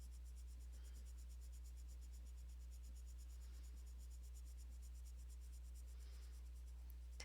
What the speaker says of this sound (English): It's still laying down pigment and filling in that tooth of the paper.